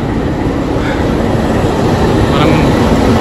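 The Ooty toy train runs toward Coonoor with a loud, continuous rumble and rolling noise heard from on board. A voice speaks faintly under it.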